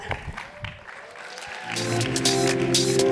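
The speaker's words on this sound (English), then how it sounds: "Round of applause for my panelists there" An audience applauds panelists at a youth environmental advisory council launch, the clapping swelling from scattered and sparse to a loud, steady ovation in the second half.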